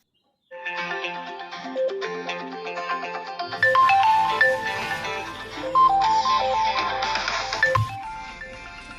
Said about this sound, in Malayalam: കൊറേ നേരമായില്ലേ ആ ഫോൺ റിങ്ങടിക്കണ്, അങ്ങോട്ട് എടുത്തൂടെ?